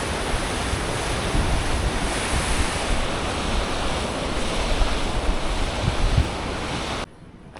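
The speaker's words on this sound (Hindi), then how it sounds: "नदी के बहाव का जो आवाज़ है ना वो बड़ी मज़ेदार है" Steady rushing water roars continuously with broadband noise, close and loud, then drops off abruptly near the end.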